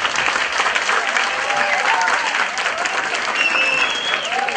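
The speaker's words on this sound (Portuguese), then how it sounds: "Acho que agora um aplauso em conjunto para os três, né?" An audience at a lecture gives sustained applause, dense steady clapping from a sizable crowd that fills the whole stretch.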